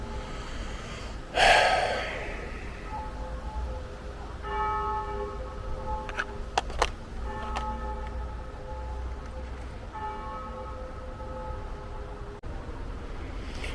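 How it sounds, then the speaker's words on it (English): A church bell at an abandoned graveyard at night tolls several times at a moderate distance, each stroke ringing out slowly over the quiet, after a sharp close gasp-like noise near the start. "The bell going off in the church"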